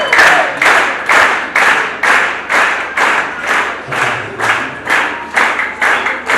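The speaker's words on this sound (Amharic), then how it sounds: "በታላቅ ጭብጨባ" An audience at a ceremony where vows are made and certificates are presented claps in unison. The claps are loud, steady and rhythmic, about two per second, throughout.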